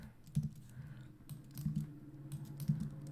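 Typing on a computer keyboard, a few close, sparse key clicks in short bursts without talk.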